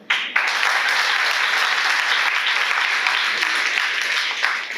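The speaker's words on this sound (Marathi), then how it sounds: "त्याच्यासाठी आभार म्हणून आधीच टाळ्या वाजव" An audience at a book launch event breaks into loud, sustained applause, dense clapping filling the hall steadily throughout.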